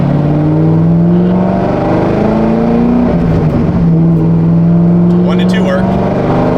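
A Corvette Z06 pulls away on the road with a loud, steady engine drone close up, its pitch climbing, dipping at a shift and then climbing again through short gentle accelerations.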